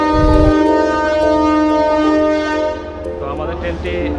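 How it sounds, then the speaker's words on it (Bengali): The Chilahati Express train pulls into a station in Nilphamari, Bangladesh, its horn blaring in one long, loud blast over the rumble of the train, with voices at the end. "সিলাটি এক্সপ্রেস ট্রেনটি আমাদের স্টেশনে পৌঁছে গেছে"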